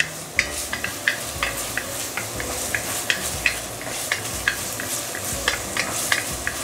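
Braised pork with sea cucumber cooking in a 24 cm cast iron pot, a steady sizzle with repeated stirring scrapes and clinks at a regular pace, close and continuous.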